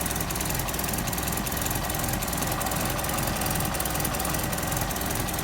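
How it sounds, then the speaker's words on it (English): A Morris 1100 engine running steadily with an exhaust leak at the front, a loud continuous rough idle with a rapid ticking, puffing pulse and no voices. "that's got a bit of an exhaust leak up the front too"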